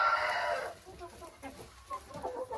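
A rooster clucks softly among feeding hens, a few short, close calls over a brief rustling burst, fairly faint overall.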